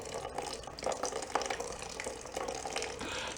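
Water trickles and splashes steadily out of a flooded 1958 VW Beetle engine during a teardown, a close, continuous running flow with small drips and splatters.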